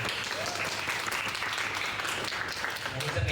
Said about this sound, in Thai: ขอเสียงปรบมือเลยค่ะ